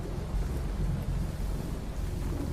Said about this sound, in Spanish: con el sonido del viento y con una lluvia que se dejaba venir